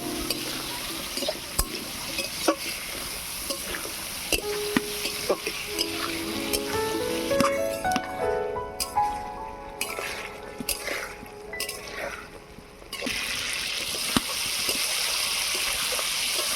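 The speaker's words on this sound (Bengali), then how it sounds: "আলুটাকে ভালো করে কষিয়ে নেব।" Potatoes for an egg-and-potato chorchori are sautéed in a pan, with scraping stirs, clinks of a spatula against metal and a soft sizzle underneath, with a few brief faint sounds in between.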